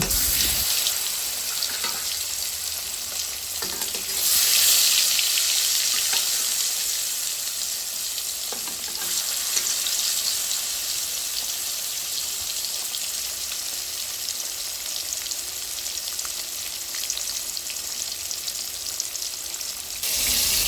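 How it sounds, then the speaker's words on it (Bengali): Pieces of silver carp fish frying in hot oil in a wok, a steady bright sizzle and crackle that flares louder for a moment early on, then settles into an even spatter; no one talks. "একটা কড়াইতে পরিমাণ মতো তেল দিয়ে গরম করে নিয়ে এর মধ্যে দিয়ে দিব মাছ"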